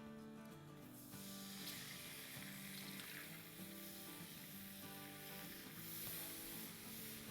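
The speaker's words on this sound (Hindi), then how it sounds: "अब इसमें हम डाल देते हैं ये ब्रॉथ।" Broth hits a hot pan of browned roux for chicken fried steak gravy, setting off a sudden loud, broad sizzle that hisses steadily and close by for several seconds under a faint humming tone.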